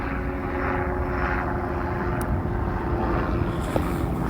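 Helicopters fly overhead, giving a steady, fairly loud low rumble and drone that stays constant throughout, with no talking.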